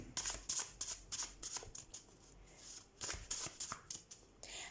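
Handmade tarot deck being shuffled close by, soft riffling bursts of cards slapping together in quick repeated rounds, fairly quiet with no talking.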